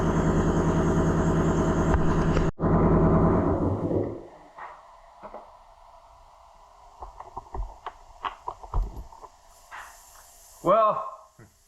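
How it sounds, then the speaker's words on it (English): An air compressor in a garage runs with a loud, steady mechanical roar and hiss, then cuts off abruptly. Scattered clicks and light clatter follow, and a brief voice comes at the end. "I forgot to turn the compressor off, so of course it has to run right in the middle of a quick little video clip"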